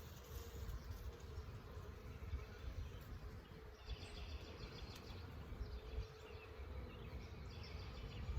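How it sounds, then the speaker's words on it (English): Honey bees drone steadily at an opened hive in early March, a dense, close buzzing that holds level throughout with no talk over it. "I just saw a bee going down in there with pollen on its legs"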